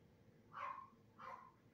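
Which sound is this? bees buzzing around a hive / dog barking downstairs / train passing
dog barking downstairs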